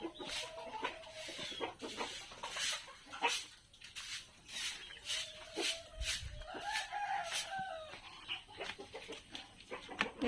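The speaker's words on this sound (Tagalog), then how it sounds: "Ito, yung dalawang tandang." Two Black Australorp roosters on a free-range plot crow in drawn-out calls between scattered clucks and short squawks, moderately close with faint background noise.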